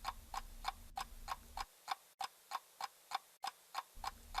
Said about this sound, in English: a clock ticking